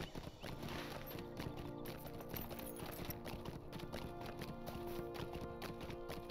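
Horse hooves trotting in the video game Lord of the Rings Online, a steady rhythmic clip-clop running throughout, moderately close, with no talking.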